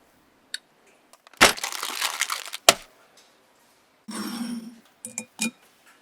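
An egg cracked against a bowl in a home kitchen, then stirred with grated cheese and ham: a sharp crack, a brief crunching burst, then scraping and clinking mixing sounds in short separate bursts, close and clear.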